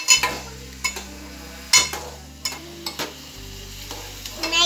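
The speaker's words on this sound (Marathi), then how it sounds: "मॅगी करताना असा कांदा हलवून घ्यायचा." Chopped onion stirred in a hot pan for Maggi noodles, frying with a steady sizzle under repeated scraping, clinking stirs of a spoon against the pan, close and clear with no talk.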